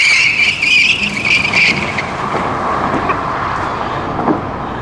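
Tesla Roadster, the next-generation electric sports car, screeching its tires loudly at an unveiling event, a sustained squeal over a rushing drive with little engine tone and no talking.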